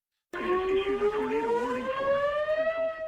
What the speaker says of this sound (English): Sirens wail.